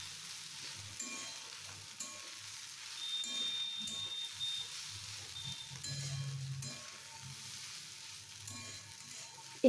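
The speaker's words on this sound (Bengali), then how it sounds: "ম্যাগিটা দিয়ে ভালো করে পাস্তাটাকে আমি ভেজে নেব" Pasta with spices and Maggi seasoning fries quietly in a pan, a soft continuous sizzle with faint clinks and scrapes of stirring, fairly low in level.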